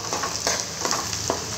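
Bitter gourd curry fries in a pan with a continuous close sizzle, broken by a few short scraping strokes as the pieces are stirred.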